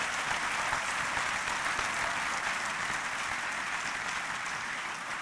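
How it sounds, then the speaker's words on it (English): An audience at an opening ceremony applauds the organising team and volunteers, a steady dense wash of many hands clapping at even loudness throughout, with no voices on top. "Could you just say a big thank you by clapping for Fiona and her team and all the volunteers"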